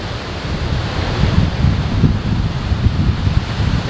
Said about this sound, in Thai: เนี่ยครับต้นมะพร้าวเนี่ยลมจะแรงเลย แรงครับวันนี้แรง